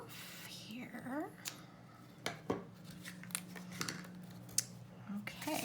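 Scissors trim card stock for a handmade greeting card, giving a few quiet snips and rustles close up, with soft handling noises between the cuts.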